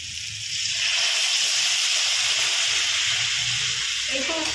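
Hot water hits a simmering Bengali shingi fish curry with potato and papaya. A soft start gives way to a loud, sustained steamy hiss and bubbling close by.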